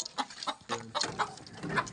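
Two mother hens sharing a nest cluck in short, repeated bursts at close range, a steady soft chatter with no voices over it.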